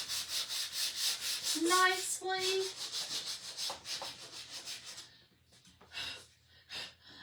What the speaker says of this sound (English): I'm going to do just a little bit of sanding to blend everything in